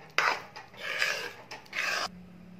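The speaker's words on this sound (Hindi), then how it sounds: "हमने इसी तरह इसको चलाते रहना है।" A spoon scrapes and stirs thickening semolina in a pan for a sweet rasgulla recipe, in close, gritty bursts separated by brief pauses.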